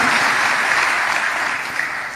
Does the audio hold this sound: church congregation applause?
yes